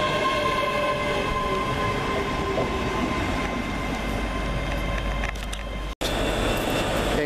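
A train on the Ayr line heading toward Glasgow gives a sustained rumbling drone with a steady engine hum, fairly loud and continuous, briefly cut off near the end, with no talk.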